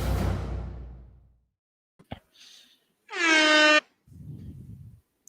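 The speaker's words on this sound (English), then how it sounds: "I just have my air horn thing, though." An air horn sound effect blasts once, short and loud, on a live sports talk show set between quieter whooshing bits and bursts of noise, with no one talking.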